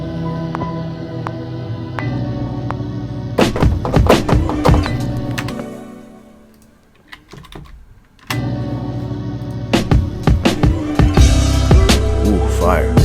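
A drum break in a hip-hop beat produced in Logic Pro X, punchy kicks and snappy hits in a rhythmic pattern that drops out briefly midway before the full beat returns, loud and upfront.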